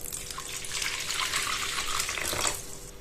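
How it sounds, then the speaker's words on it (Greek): About 500 grams of water is poured into a sourdough starter for khachapuri dough, making a steady, close splashing stream for around three seconds with no voices. "Θα προσθέσουμε νερό 500 γραμμάρια,"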